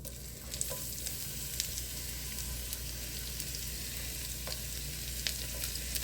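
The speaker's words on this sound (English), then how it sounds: "with the butter melting, I'm going to add the sliced onions" Sliced onions fry in melted butter, a steady even sizzle heard close, with a few faint clicks and taps of a utensil now and then and no talking.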